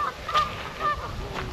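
Geese honk in short bursts by a lake in the morning, two or three clear calls at moderate distance over quiet outdoor ambience.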